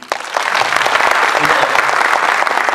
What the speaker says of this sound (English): Round of applause for Pradeep.